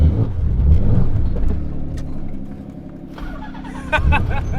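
A twin-turbo 1000 hp Nissan 300ZX engine runs and revs as the car pulls away, rumbling close by with a rising whine of acceleration near the end.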